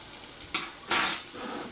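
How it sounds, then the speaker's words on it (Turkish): A spoon stirs yogurt sauce seasoned with salt and sweet paprika in a bowl, two short scraping swishes close by over a soft steady background. "Bu malzememizi karıştırıyoruz"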